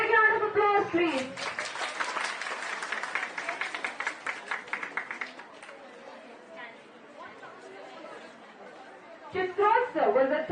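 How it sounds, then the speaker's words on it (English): Students and guests at a school outreach event on India's solar mission applaud prize winners: a brief patch of clapping amid crowd chatter, fading into a murmuring hall before voices rise again. "A big round of applause,"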